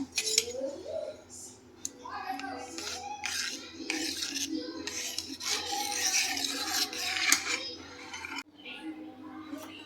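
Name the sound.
stirring milk powder and cornflour mixture in a pot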